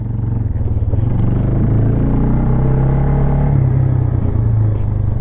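A 2001 Yamaha Bear Tracker 250 four-wheeler rides along a road, its small engine droning in a steady, loud low rumble that shifts pitch slightly midway.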